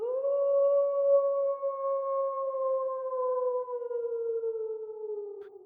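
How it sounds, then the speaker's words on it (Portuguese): A long, wavering howl that sounds like crying, a werewolf howl effect, sustained and loud for nearly six seconds, with two steady tonal bands slowly sliding downward and no voices. "Um uivo que parecia mais um choro."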